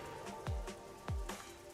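In the video game Master Detective Archives, rain falls in a quiet town district, heard as soft, close drips with a couple of heavier drops plopping about half a second apart, with no talk.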